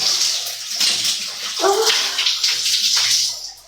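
Water splashes and pours steadily while a dog is bathed during a shower, with broadband sloshing throughout, a brief tonal gurgle near the middle, and no talk over it.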